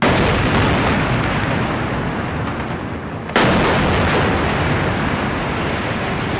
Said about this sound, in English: This is the moment an Israeli missile strike destroyed a high-rise building housing the Associated Press, Al Jazeera, and other office spaces and homes in Gaza